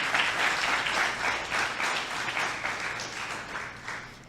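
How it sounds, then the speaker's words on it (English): A crowd at a scholarship award ceremony applauds with dense, sustained clapping that gradually tapers off toward the end. "I think we should clap to that."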